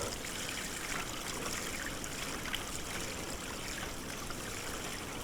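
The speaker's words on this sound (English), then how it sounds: "very slowly, pour a bit of clean water through the system." Clean water is poured slowly and steadily through a Gold Cube gold-recovery sluice, producing a continuous close trickling, splashing wash with no pauses.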